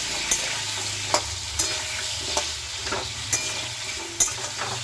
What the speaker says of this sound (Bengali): আলুটা ভেজে নেব ভালো করে।